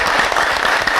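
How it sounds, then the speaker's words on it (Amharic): An Ethiopian TV show audience breaks into brief, dense applause after a dance performance, a loud burst of many hands clapping close together. "ጭብጨባ እናርግላቸው።"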